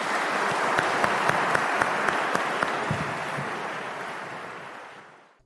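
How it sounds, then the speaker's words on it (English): A debate audience applauds both speakers with dense, sustained clapping that holds steady for several seconds and then fades out at the end. "Can we give both of our speakers a round of applause?"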